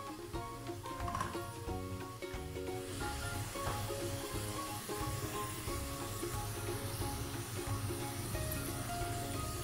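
Sliced onions fry golden brown in hot oil in a pan for keema, giving a steady, continuous close sizzle with no talking.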